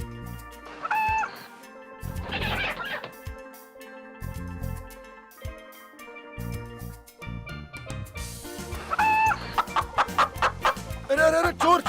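A hen clucks in short, bursty runs, close and clear, with gaps between calls and a denser, louder flurry of clucking toward the end.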